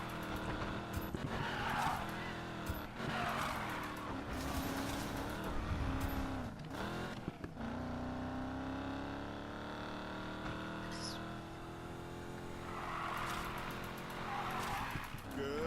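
A Camaro sliding sideways in the racing game Need for Speed Payback, its engine droning loud and continuous while tires squeal in bursts through the drift, with no voices over it.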